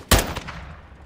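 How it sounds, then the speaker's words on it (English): A single sharp gunshot in the video game Call of Duty Modern Warfare II cracks close and loud, then a quick fading tail with a faint second report. "Pop, pop, pop. Who shot at me?"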